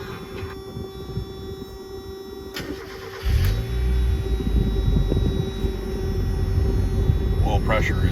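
A 1991 Mazda Miata engine cranks and fires on a cold start, then settles into a steady close idle that rumbles on for several seconds.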